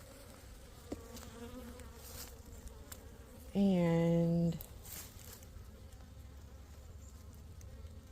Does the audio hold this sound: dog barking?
no